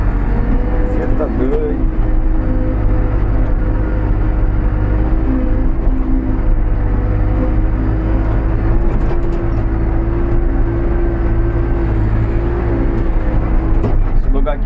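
A New Holland B95B backhoe loader works on a road repair, its diesel engine a loud, steady, unbroken drone throughout, with voices talking over it.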